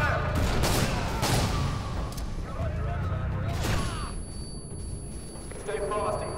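Gunfire during a firefight in the video game Call of Duty Modern Warfare 2: continuous loud bursts of shooting and booms, with voices shouting over the din.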